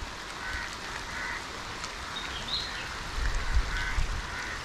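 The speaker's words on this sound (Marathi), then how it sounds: "पाऊस लागता आहे बघा." Rain falls by the Gad river in the evening, a steady soft hiss with a few low thumps and rumbles near the end, and no voices.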